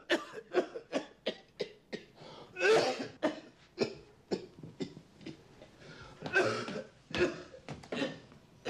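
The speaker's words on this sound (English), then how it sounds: "Your cough's getting worse." A person coughs repeatedly, close and fairly quiet, in a long run of short harsh coughs with a few heavier throat-clearing bursts.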